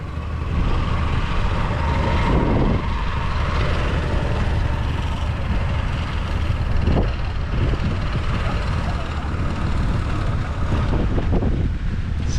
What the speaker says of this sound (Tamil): நம்ம போட்டு பக்கத்தில் ஒரு போட்டு வருது பாருங்கள்